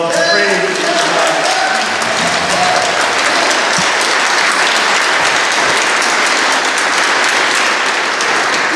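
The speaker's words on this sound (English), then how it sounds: "Give God a round of applause." A church congregation at St. Katharine of Siena in Wayne, Pennsylvania, claps in a sustained, loud, dense round of applause that fills the whole stretch at a steady level, with a faint voice briefly underneath near the start.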